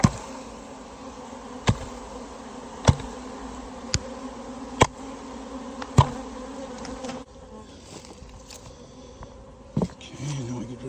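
Honey bees buzz steadily around a hive, a dense droning hum, punctuated by several sharp knocks and taps of handling.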